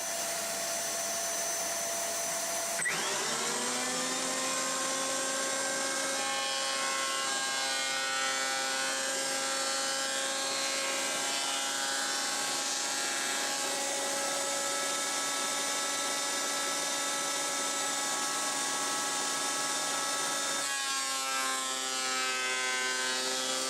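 A power planer or similar electric tool spins up and runs continuously as a strip of wood is planed flat for a fidget spinner, a loud steady whine with shifting tones, then winding down near the end.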